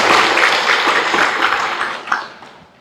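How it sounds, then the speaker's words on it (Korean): Loud, dense applause from a crowd at a Won Buddhist commemorative service, steady and then gradually thinning out toward the end. "고산 나상호 교무님을 큰 박수로 모시겠습니다"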